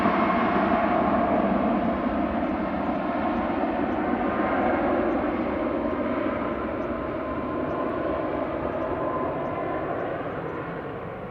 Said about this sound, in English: There's another TUI. A Max 8 to Palma.